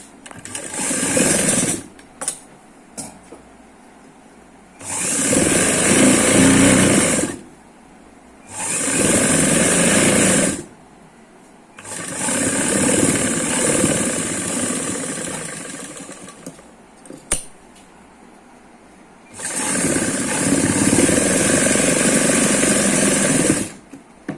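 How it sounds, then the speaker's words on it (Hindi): A sewing machine runs in several bursts of a few seconds each while stitching the half-inch folded hem of a ladies' palazzo pant, its loud, rapid mechanical whir starting and stopping, with quiet pauses between runs. "तो हम इसे इस तरह से सिलाई करेंगे 1/2 इंच अंदर की तरफ फोल्ड करते हुए।"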